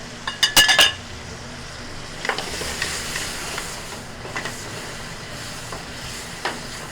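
Chopped shrimp cook in a hot pan with a steady soft sizzling hiss, opened by a quick run of metallic clinks from a utensil, followed by occasional faint taps.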